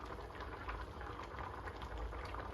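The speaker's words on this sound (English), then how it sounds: "we're just going to let this recipe cook in our electric skillet for about 30 to 40 minutes" Yams cook in an electric skillet set to 300, giving off a steady, dense sizzle and soft bubbling crackle that holds at an even level from start to finish.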